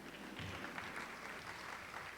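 An audience of pre-K teachers claps at a speech event, giving a short burst of even, dense applause that stays steady throughout.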